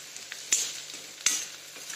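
Potato vada filling with finely chopped curry leaves fries in a pan, a soft steady sizzle broken by two sharp scraping stirs, close and fairly quiet, with no talking.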